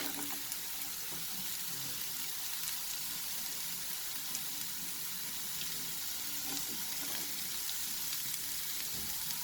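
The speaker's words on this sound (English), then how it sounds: "After frying it for 30 seconds, we will add" Carrot sizzles in a pan for vegetable fried rice, a soft, even frying hiss with occasional light stirring clicks, fairly faint and steady throughout.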